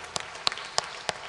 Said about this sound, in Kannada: ಚಪ್ಪಾಳೆ ತಟ್ಟಿ ದೇವರಿಗೆ ಸ್ತೋತ್ರ ಕೊಡು.